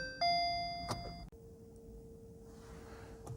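Electronic chime from a VW e-Up as the ignition is turned, a bright multi-tone bing-bong followed by a sustained single beep, close and clear in a quiet car interior.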